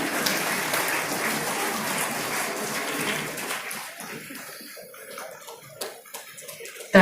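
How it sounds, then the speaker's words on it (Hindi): An audience applauds at a Jharkhand government anniversary ceremony as a memento is presented to a minister on stage; steady, dense clapping fills the first few seconds, then thins out and fades to scattered claps. "तालियां भी आपकी ओर से हों।"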